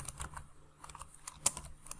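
Keystrokes on a computer keyboard while entering a Java compiler version command, a series of quick irregular clicks, close and fairly quiet, with one sharper tap near the middle.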